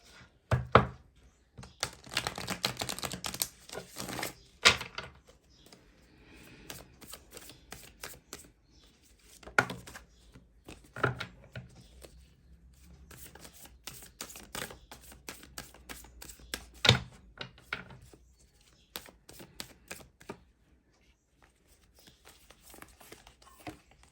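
A deck of tarot cards is shuffled by hand in repeated soft riffles and flicks, close and fairly quiet, with irregular pauses and occasional light taps between bursts.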